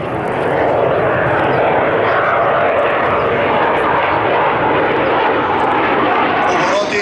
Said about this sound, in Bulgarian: Започваме с полет на минимална скорост и максимален ъгъл на атака.